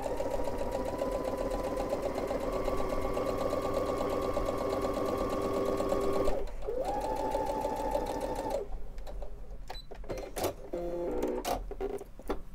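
A Baby Lock Brilliant sewing machine stitching fabric, a steady rapid mechanical whir and needle chatter that runs continuously, briefly pauses, resumes, then gives way to a few clicks and handling sounds, close and alone.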